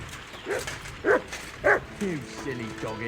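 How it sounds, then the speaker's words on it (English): A dog in the medieval video game Kingdom Come: Deliverance II barks about four times in short spaced yaps, close by, with a voice talking in between. "You silly doggy."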